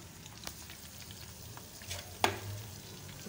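Chicken potato bites frying in a pan give off a quiet, steady sizzle, with one brief sharper clink or crackle about two-thirds of the way through.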